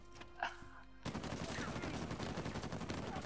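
A big gun in Uncharted 4 opens up in a dense, sustained burst of rapid loud shots after a brief quieter moment, continuing to the end.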